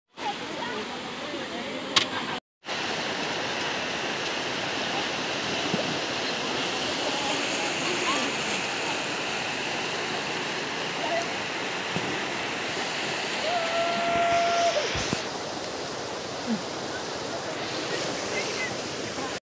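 Floodwater flowing across flooded fields makes a constant, heavy rushing wash, with wind noise on the microphone and brief spoken remarks. The sound drops out once and then resumes.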